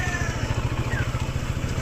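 A new motorcycle idles nearby on its first ride out, its engine chugging in a quick, even pulse that stays loud and steady throughout.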